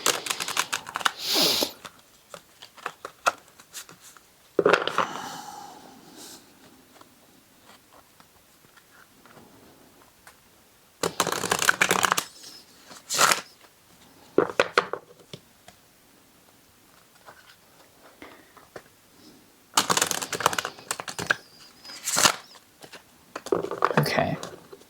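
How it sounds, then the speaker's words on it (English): Bursts of cards being shuffled, riffling in short clusters separated by quiet pauses. "Bear with me while I do the shuffling here."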